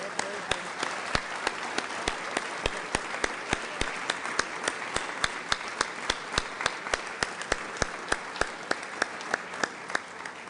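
Rotary club members on their feet give new members a rousing standing ovation. Steady, dense applause fills the room for about ten seconds, with a few sharp, close claps cutting through in a regular rhythm.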